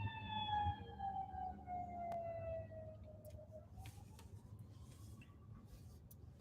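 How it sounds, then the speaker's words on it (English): An ambulance siren wails outside a building, a steady sweeping tone that dips and rises again as it passes close by, loud above a low hum of room and traffic noise. "this ambulance is right here."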